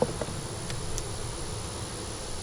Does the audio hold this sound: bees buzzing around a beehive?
yes